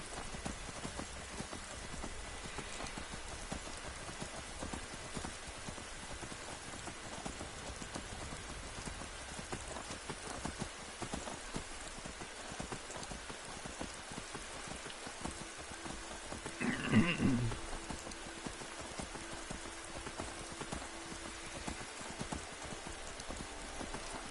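Steady rain falls throughout a modded Skyrim scene, with horse hooves clip-clopping at an even pace, and a brief louder burst of clattering near the end.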